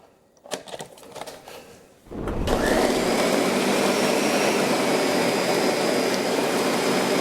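A few clicks and taps come first, then a Ninja blender's motor kicks on and whirs loudly and steadily at close range as it blends green tomatillo salsa.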